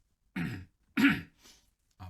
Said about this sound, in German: Ein bisschen räuspern